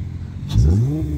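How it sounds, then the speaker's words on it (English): An 8th-generation Honda Accord V6 coupe with six-speed manual and aftermarket exhaust gives one short rev, a deep exhaust note rising sharply in pitch then easing off, loud and close. "let me get a nice rev."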